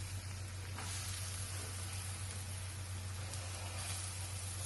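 Chopped onions frying in hot oil in a pan for egg curry, giving a steady, even sizzle that continues without a break, with a low hum underneath.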